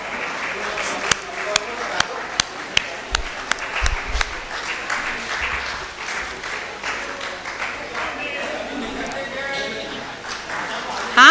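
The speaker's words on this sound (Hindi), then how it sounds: "कृपया अपनी तालियों से" Audience at a book launch applauding in a sustained wash of clapping, with a few sharper individual claps standing out and voices talking over it.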